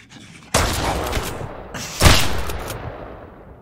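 Gunfire in the survival video game Mist Survival: two loud bursts of rapid shots, the second heavier and booming, each trailing off into a fading echo.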